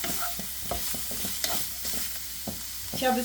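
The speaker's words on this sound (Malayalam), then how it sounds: "ഇനി ഇതിലേക്ക് നമ്മൾ മുറിച്ച് വെച്ച പനീർ ചേർക്കാം കേട്ടോ ഒന്ന് മിക്സ് ചെയ്ത് കൊടുക്കാം" Chopped paneer cubes are stirred into a sizzling masala mixture in a pan for a sandwich filling, a spoon scraping and tapping in rhythmic strokes over a soft continuous frying hiss, close and without talk.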